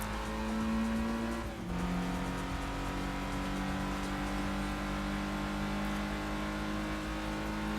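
Mazda race car engine in the video game Gran Turismo 2, a steady loud droning whine that drops briefly as it shifts, then climbs again, with faint tire noise and no talk.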